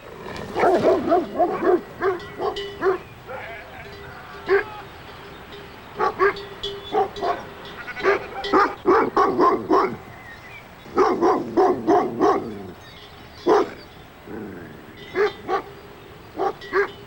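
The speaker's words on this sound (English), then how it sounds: "Barking is enough to put off the threat." Livestock guard dogs protecting a flock of sheep bark in repeated bursts, sharp loud clusters of barks separated by short pauses across about seventeen seconds, with occasional yips mixed in.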